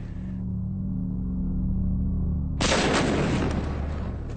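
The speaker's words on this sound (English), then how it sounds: "The Matador's second explosion has done serious damage to this building." A Matador rocket blast inside a concrete building comes as a sudden loud boom, followed by a dense, sustained roar of debris and rumble after a low steady drone.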